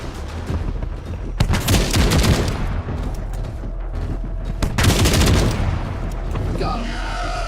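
Gunfire in the Tankhead video game as an enemy is shot: two loud sustained bursts of rapid fire stand out over a constant rumbling background, with a brief pause between them.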